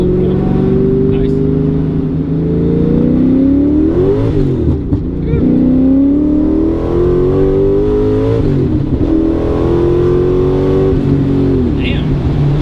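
A 1990 Callaway Corvette ZR1 with reground factory cams accelerates hard, its engine note climbing in pitch through repeated gear pulls, loud and close from inside the car with occupants talking over it.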